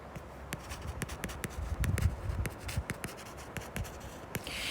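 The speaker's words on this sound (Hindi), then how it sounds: "1747 में किसी और पेन के साथ लिखते हैं।" Pen scratching across paper in short strokes and ticks, close and fairly quiet, with a few soft thumps underneath and no talk.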